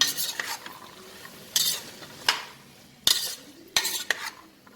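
Potatoes and fresh green peas are sautéed in a pan for vegetable biryani, with repeated bursts of spoon scraping and stirring over a quiet sizzle, each stroke close and distinct.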